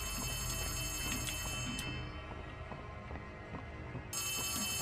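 A telephone rings with a repeated electronic bell tone inside the Poppy Playtime Chapter 3 video game, heard over a steady game background hum with no talking.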